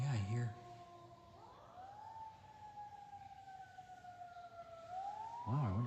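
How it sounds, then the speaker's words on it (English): A siren wails faintly in the distance, its pitch slowly sliding up and down, with quiet voices near the start and end. "Normally we don't hear sirens out here."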